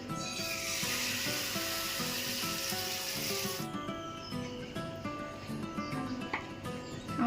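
Gola ruti batter sizzling as it fries in hot oil in a kadai, a steady loud hiss that drops off partway through, leaving quieter crackling and scraping.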